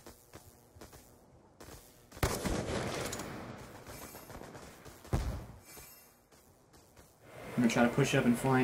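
Gunfire rattles in a first-person shooter search-and-destroy match: quiet at first, then a loud burst of rapid shots, a second sharp volley and later clattering fire. A player talks over the action.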